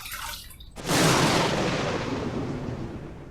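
Running water gushing loudly after a wet shave with a Phoenix Shaving Moon Stryker brush, starting abruptly after a quiet moment and then holding a steady, close rush.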